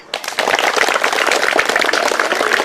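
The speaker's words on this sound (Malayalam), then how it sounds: "ക്ലാപ്പ് ചെയ്തേ" A school audience applauding a correct quiz answer at a children's game show, a dense burst of many hands clapping close and loud for a few seconds without a pause.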